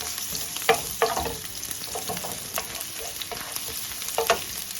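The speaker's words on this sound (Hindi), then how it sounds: "इसको हम थोड़ा सा ब्राउन करेंगे लहसुन को" Steady, moderate sizzle of garlic frying in a pan, with a few soft clinks and stirring taps over the crackle.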